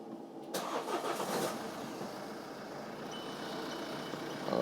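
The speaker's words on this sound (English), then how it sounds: "We'll start the car, put the clutch in." A 2009 Renault Megane Cabriolet III engine with a poor-performance fault (code DF308) cranks and catches about half a second in, then settles into a steady, fairly loud running rumble close by.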